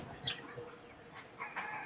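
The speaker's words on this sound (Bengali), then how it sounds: "এটা হলো লেয়ার মুরগি।" Layer hens at a poultry market give faint, scattered clucks and squawks, a few short calls rising over a low, steady background hum.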